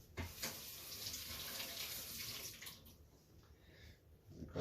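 Potatoes are rinsed under cold tap water, which runs in a steady, soft splashing rush throughout.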